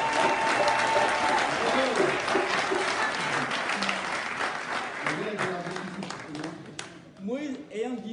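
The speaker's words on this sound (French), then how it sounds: "Vous acclamez le Seigneur pour ça." A church congregation at a Sunday service in Paris applauds loudly and continuously, the applause gradually thinning as a voice begins speaking over it.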